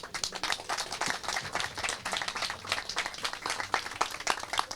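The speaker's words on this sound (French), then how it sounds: "Je pense qu'on peut les applaudir." Audience at a cycling race event in Côte-d'Or applauding, a steady patter of many hands clapping at moderate distance with no talking.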